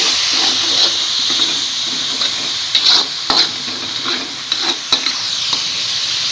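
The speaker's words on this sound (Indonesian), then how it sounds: "lalu sekarang kita tumis bumbunya sampai benar-benar matang" Spice paste with cumin, pepper and ground coriander being sautéed for chicken curry, giving a loud, continuous hissing sizzle, close, with a few sharp scrapes of a spatula stirring the pan.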